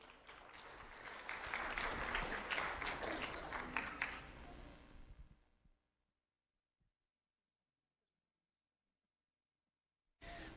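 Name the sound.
audience applause for a student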